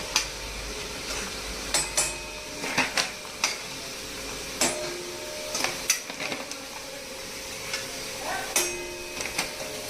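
Roasted moong dal scraped and lifted from a pan with a metal spoon on a low gas flame, giving sharp intermittent clinks and scrapes against the pan over a faint background hiss, with no talking.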